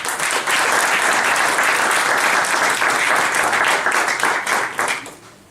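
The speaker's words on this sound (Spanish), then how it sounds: "Yo creo que él también se merece un fuerte aplauso." A large audience gives a strong, sustained round of applause at an Ecuadorian candidates' community gathering in Stockholm, dense clapping filling the room for about five seconds before tapering off.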